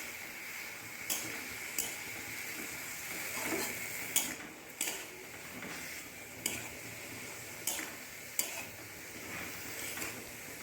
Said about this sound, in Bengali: এবার খুব ভালো করে এগুলোকে নাড়াচাড়া করে মিশিয়ে নিচ্ছি।